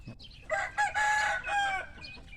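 A chicken with a foot tumor crows in several loud, close bursts, with clucking mixed in and faint background noise between the calls.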